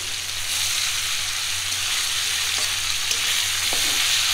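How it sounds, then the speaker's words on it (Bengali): Paneer frying in oil in a pan, a steady, close hiss and crackle of sizzling that holds evenly throughout with a few faint clicks. "প্রথমে পনিরটা একটু ভাজা হচ্ছে।"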